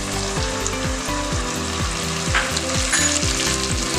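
Ginger garlic paste, green chillies and tomato puree frying in a pan, with a loud continuous sizzle and bubbling under a repeating scrape of stirring, close and steady with no voices.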